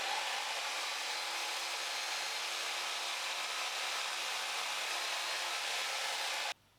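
A Bosch GFS 350E fine cut saw runs continuously at an even, loud pitch, cutting through wood with a steady rasping whine until it stops abruptly at the end.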